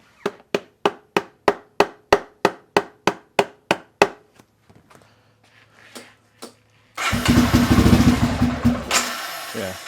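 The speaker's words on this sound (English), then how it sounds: "a couple hits on the CDI and it wants to start." A metal T-handle taps the CDI unit of a 1994 Honda XR650L thirteen times in quick, even, sharp knocks, followed by a pause, then the single-cylinder engine fires and runs loud and close.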